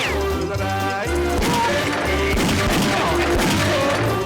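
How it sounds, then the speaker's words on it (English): Rapid gunfire bursts and squawking chicken cries from the Wii shooting game Chicken Shoot, layered over a looping musical backing track, loud and dense throughout with repeated sharp hits. "Now pair it with gunshots and chicken squeals."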